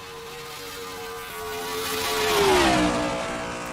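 A NASCAR Next Gen stock car engine, running a single-car test at Daytona, roars past the camera, its pitch climbing then bending downward as it swells to a peak around the pass and fades slightly afterward.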